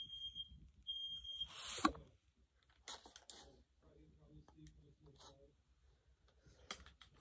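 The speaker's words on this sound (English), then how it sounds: "Oh my god, the fire alarm's going off." A smoke or fire alarm sounds two high, piercing beeps near the start during a night without power. After that come quiet clicks, a voice speaking and soft room noise.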